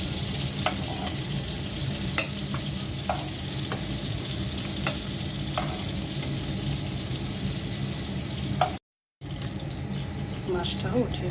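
Eggplant slices and tilapia fish fry in hot oil in a home kitchen, giving a steady, dense sizzle with occasional clicks of stirring and turning.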